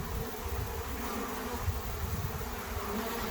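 A small honeybee swarm led by a virgin queen buzzes in a dense, continuous drone of many wings, close and steady, with no voices.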